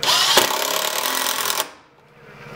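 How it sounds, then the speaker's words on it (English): A power drill drives a #8 two-inch wood screw into a 2x4 bench frame in one loud, continuous whir of about a second and a half, then cuts out and the room goes quiet. "I'm just going to go ahead and drive in my last screw here"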